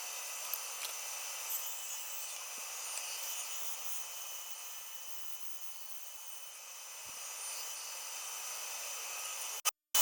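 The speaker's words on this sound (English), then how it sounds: "Add to the bandsaw now to trim off the excess" A bandsaw trims excess pallet wood in a workshop, a steady high whirring hiss of the running blade held at even loudness for several seconds, ending with a sharp cutoff and a brief click.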